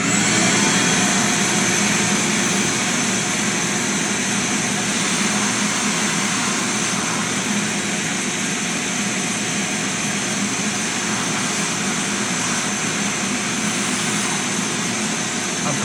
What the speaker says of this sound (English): we're going to vacuum this area out